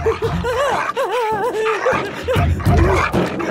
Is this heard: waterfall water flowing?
no